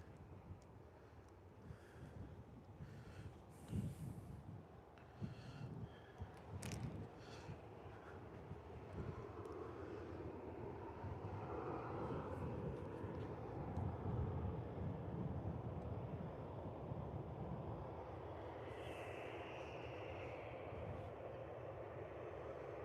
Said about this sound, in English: Ryanair making its way out onto the taxiway now.